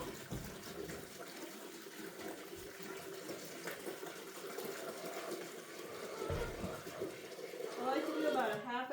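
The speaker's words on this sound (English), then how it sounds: "This is hot water. As hot as it'll come out of the tap." Hot water runs steadily from a tap during an ice storm, a continuous broadband rush with a brighter splashing burst near the end as it fills a container; a voice talks over it.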